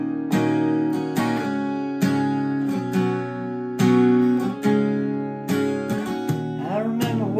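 Strummed acoustic guitar runs through the verse chords of a song, close and even, with rhythmic chord changes and a brief slide near the end, no singing or talk.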